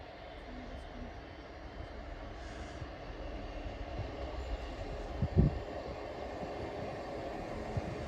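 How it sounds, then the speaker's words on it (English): A passenger train, a Class 158 on the Hull service, rumbles nearby with a low, steady drone, a brief clank partway through, and some background chatter. "So this is our train."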